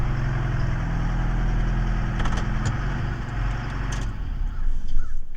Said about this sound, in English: That's one noisy truck, isn't it?